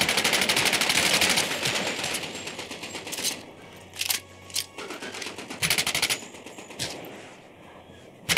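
Gunfire in the VR video game Medal of Honor: Above and Beyond, a loud sustained machine-gun burst followed by scattered sharp single shots and short volleys at close range.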